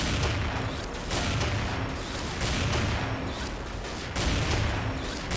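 Sniper rifle shots ring out repeatedly in the shooter game XSHOT, with loud booming reports recurring roughly every second over a dense, noisy battle background.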